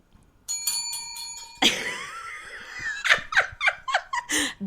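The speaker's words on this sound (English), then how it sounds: "So, we now have bells" A bicycle bell rings in a rapid series of bright dings, followed by a burst of breathy laughter and gasps.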